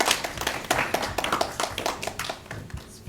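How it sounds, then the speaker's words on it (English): Pupils in a classroom giving a round of applause, a short ragged run of individual claps with distinct sharp hand strikes, close and fairly loud, thinning toward the end. "Round of applause, well done."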